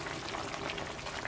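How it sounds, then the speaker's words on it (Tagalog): Lomi noodle broth boils in a pot with dense, steady bubbling and gurgling, close and continuous with no voices. "Kumukulo na"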